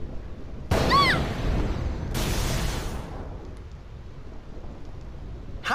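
Two sharp cracks of lightning and thunder strike close by in the stormy Thunder Plains of Final Fantasy X, each a loud bright burst, the second longer, both settling back into a fainter bed of rain.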